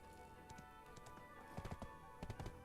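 Horse hooves clip-clopping in a video game, a light irregular clatter that builds into a few louder clusters of beats, heard alone at moderate level.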